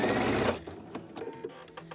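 A Husqvarna Viking sewing machine stitches quilt binding through a quilt binder attachment, a steady fast mechanical whirring that stops after half a second, followed by faint clicks and handling noises.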